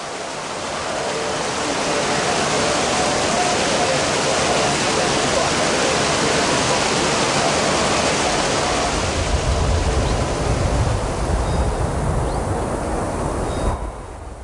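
A river flows steadily at a Tibetan Buddhist mandala sand ceremony in Ladakh, making a loud, continuous broadband rush of water that holds even throughout and stays close, with no voices.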